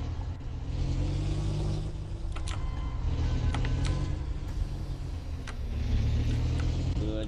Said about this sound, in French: j'entends quand je conduis la voiture, j'entends le moteur que d'un côté.